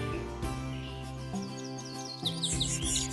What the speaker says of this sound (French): il faut piailler plus fort que son voisin